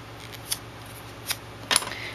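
Scissors snipping paper to shape a bow, three separate crisp cuts spaced apart, the last a little longer and louder, close-up with no talking.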